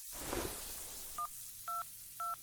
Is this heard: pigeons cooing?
no